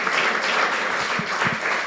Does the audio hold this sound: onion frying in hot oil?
no